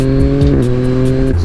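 Yamaha MT-09 A2 three-cylinder motorcycle engine running steadily close by, a loud continuous drone with shifting pitch as revs rise and fall briefly.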